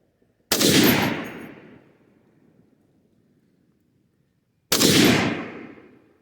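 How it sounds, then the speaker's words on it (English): An M1919A4 Browning gun fires two loud, separate semi-automatic shots about four seconds apart, each with a sharp crack and a long rolling echo that fades outdoors. "I'm going to go ahead and take these last two shots and see where we are"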